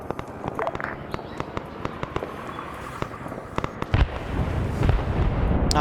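Tank cannon and gunfire in the Arma Vietnam War game SOG Prairie Fire, a dense run of sharp, close cracks and pops building into heavier booming blasts and a rumbling roar toward the end, under light radio chatter.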